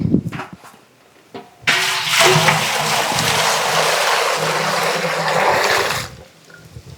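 Water poured steadily into a drum for soaking noni fruit, a loud, continuous splashing gush lasting several seconds, preceded by a few faint knocks and followed by a quieter tail.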